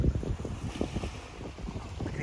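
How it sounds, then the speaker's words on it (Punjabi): Cool wind gusts across the open lakeshore at Frenchman's Bay Marina in Toronto, a loud, rumbling buffet of air against the microphone that swells and eases without pause, with no one speaking. "ਠੰਡੀ ਠੰਡੀ ਹਵਾ ਚੱਲ ਰਹੀ ਹੈ,"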